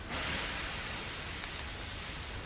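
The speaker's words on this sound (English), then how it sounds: "I can't stand the rain." Steady rain falling in a broad, even hiss that holds throughout, with a few faint crackling drops near the middle and no voices.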